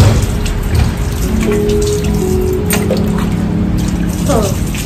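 Water poured over children being bathed at home, hot and cold water mixed, making a steady splashing, dripping wash close by, with voices talking over it.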